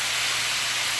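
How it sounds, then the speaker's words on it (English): Beef sears in a very hot pan over high heat, giving a loud, steady broadband sizzle that holds unbroken for about a second. "So now our pan is really hot. We're just gonna add our beef in."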